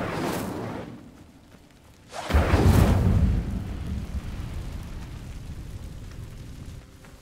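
An Incendio fire spell cast on kindling in Hogwarts Legacy erupts after a quiet stretch as a sudden loud whooshing burst of flame. It roars for about a second, then settles into a steady, lower rumbling burn.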